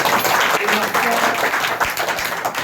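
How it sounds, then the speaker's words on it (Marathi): An audience at a community rally claps in a dense, continuous burst of applause, loud and close, with a voice faintly mixed in. "आपण टाळ्या वाजवून अभिनंदन करूया"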